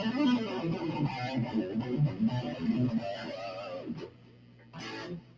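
An electric guitar through an effects pedal plays a short melodic phrase with echoes bouncing back and forth, ending in a pause and then a final swelling note.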